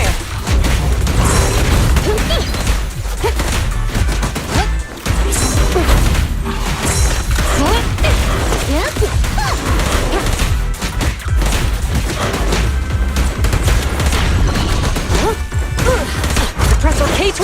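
Rapid bursts of gunfire and impacts from combat in the video game Zenless Zone Zero, loud and dense throughout, layered with crashes and thuds.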